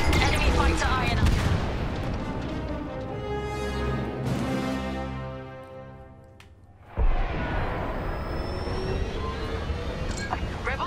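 Ion lasers fired from starfighters in the Star Wars Squadrons video game crackle in dense, rapid bursts over a roaring engine wash, dipping briefly before surging back loud.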